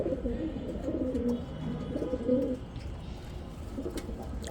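Girubaz pigeons on a rooftop coo close by in soft, repeated low rolling calls, a few overlapping phrases with faint background noise.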